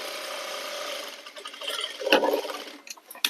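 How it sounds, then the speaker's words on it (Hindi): A sewing machine stitches along the edge of a foam-backed salwar mohri poncha design, giving a quiet mechanical whirr that builds into brief close bursts of rapid stitching near the end. "किनारे में सिलाई लगाएंगे। इसी तरीके से दूसरे पोंचों में भी आपको सिलाई लगानी है।"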